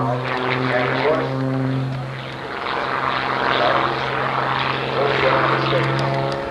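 A propeller aerobatic airplane performs at the 1989 Oshkosh airshow, its engine droning loudly and steadily with shifting pitch as it manoeuvres, swelling and easing across the pass.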